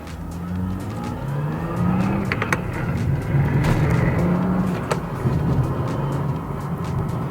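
A BMW with an N55 engine and a Stage 2 tune accelerates hard, its exhaust droning and rising through the gears with brief shift breaks, heard from inside the car, steady and fairly loud.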